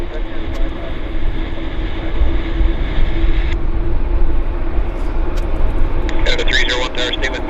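A heavy jet airliner on approach to Vancouver airport produces a broad, continuous roar that stays loud and steady throughout, with faint background chatter near the end.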